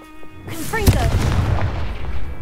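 In Hogwarts Legacy, the Confringo fire-blast spell detonates with a heavy boom after a quick rising whoosh, leaving a crackling, rumbling decay; a voice is heard just before it.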